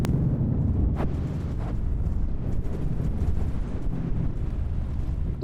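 A laser-struck ship explodes in a space combat video game, heard as a low, rumbling roar with a few sharper bursts, continuous and fairly loud, with no talk over it.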